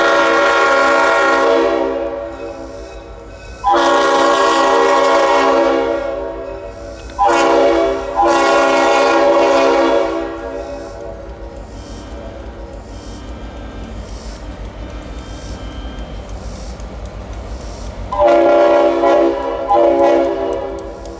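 A Norfolk and Western high hood diesel locomotive approaches, sounding several loud, sustained horn blasts in a long-short pattern, with engine rumble continuing between the blasts and a final pair of horn sounds near the end.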